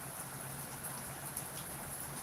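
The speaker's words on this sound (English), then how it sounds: "because of the rain." Steady rain falling in a dense, even hiss with scattered drops, continuous and fairly loud, with no voices over it.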